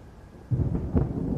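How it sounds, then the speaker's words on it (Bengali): A short rumble of thunder rolls in during a night storm with lightning, a sudden low boom that swells twice and lingers. "বাইরে তখন বিদ্যুৎ চমকাচ্ছে। আকাশ জুড়ে ঘন মেঘ"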